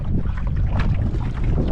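Strong wind roars and buffets the microphone continuously at a wilderness river camp, a heavy low rumble with gusty hiss and no talking.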